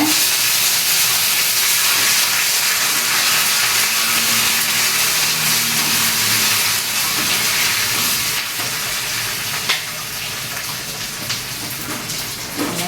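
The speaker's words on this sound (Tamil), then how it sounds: "இப்போ வந்து நம்ம வந்து வடகம் போட்டு தாளிச்சுக்கலாம்" Loud, continuous sizzling hiss of vadagam frying in hot oil with curry leaves, with scattered crackles and pops throughout.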